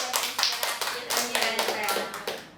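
A burst of clapping from a small audience at an informal talk or Q&A session, lively and fairly close, mixed with some background voices.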